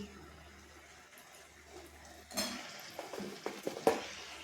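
Chopped tomatoes are tipped into a hot cooking pan for lunch, producing a sudden wet clatter and sizzle followed by a few scraping knocks of a utensil against the pan, fairly close and moderate in level.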